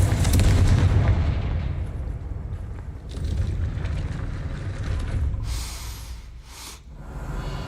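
The Confringo explosive spell blasts in Hogwarts Legacy: a loud booming burst rolls out at the start, followed by further rumbling detonations and sharp hissing bursts toward the end, with no talking.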